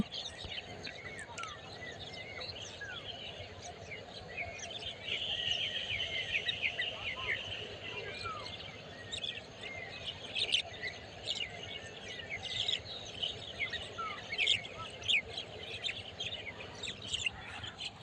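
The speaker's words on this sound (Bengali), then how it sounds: "অসংখ্য শালিক পাখি ওরাউরি করতেছে এখান দিয়ে" Common mynas chattering and calling from a little distance, busy overlapping chirps and squawks over quiet outdoor ambience.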